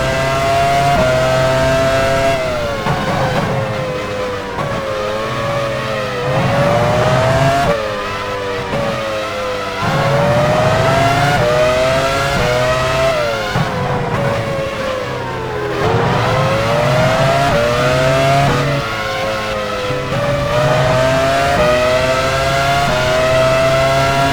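A Formula 1 car in F1 Challenge 99-02 at Spa-Francorchamps, Belgium, screams close by as its engine revs through repeated gear shifts, rising in pitch, dropping, and climbing again in a loud, continuous wail.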